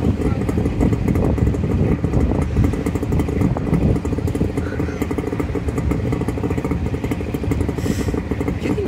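Two motorcycles, a Yamaha XJR400 and a Honda VT400S, run their engines nearby with a steady, loud, continuous rumble and some clatter, while voices are faintly mixed in.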